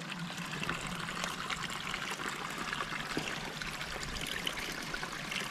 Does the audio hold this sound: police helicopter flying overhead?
no